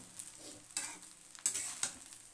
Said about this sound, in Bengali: কড়াইটা আমার আর একটু বড় হলে না ভালো হতো, কারণ নাড়াতে আমার একটু কষ্টই হচ্ছে।